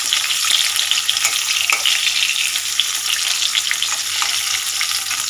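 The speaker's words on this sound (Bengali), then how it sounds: "আগে বেগুন ভাজলাম" Tender eggplant slices fry in hot oil, giving a loud, continuous close-up sizzle with faint crackles and no voices throughout.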